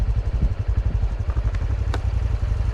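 A Honda CT125 motorcycle engine runs close by with a steady, rapid low-pitched thrum and light mechanical clatter, with no talk over it.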